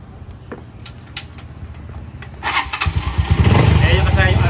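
A Motorstar 125 motorcycle engine fires up and climbs into hard revving toward 8,000 rpm, loud and close, with someone talking throughout.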